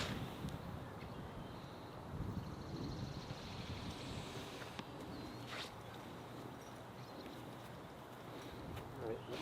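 Wind blowing across an open golf course, a continuous low rumbling buffet of steady moderate loudness, with faint voices under the noise.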